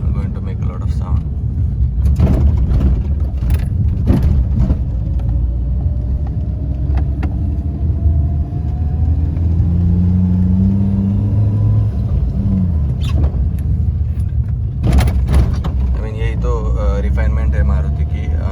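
A Maruti Suzuki car running on an aftermarket CNG engine, heard from inside while driving: a steady low road rumble and engine drone with occasional knocks and bumps, close and loud throughout.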